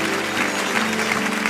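A church congregation applauding during worship, a steady, dense clapping that fills the whole moment with no voices on top.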